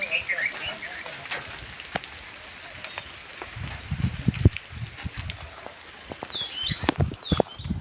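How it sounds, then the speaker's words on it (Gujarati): Light rain patters steadily on an open farm field during a wet early morning, a soft continuous hiss with scattered louder drops and a brief voice partway through. "વરસાદ ચાલુ છે એમાં સારામાં સારો વરસાદ છે"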